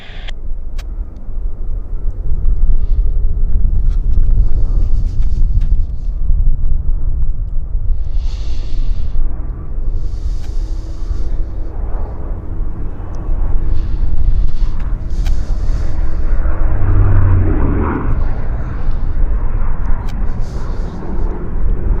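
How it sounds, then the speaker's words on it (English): A Q400 turboprop airliner at Vancouver YVR airport, heard as a loud, continuous low engine rumble with a broad roar that holds steady for the whole stretch. Other faint sounds come and go over it. "So I see the Q400 right now."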